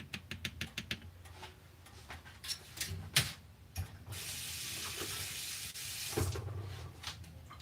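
Kitchen faucet running to rinse a canning jar during holiday cooking, with a steady hiss of flowing water for a few seconds after some clicks and taps, close by.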